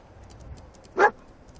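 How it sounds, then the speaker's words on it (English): A single short dog bark from a companion dog in the video game Fallout 4, a brief, fairly close yelp standing alone over quiet background ambience. "I don't know what he's barking at."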